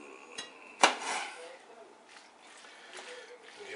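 Cast iron frying pans clank once sharply on a cooktop while cooking a bacon cheeseburger casserole, a single metallic hit followed by softer scraping and kitchen handling sounds at a modest level.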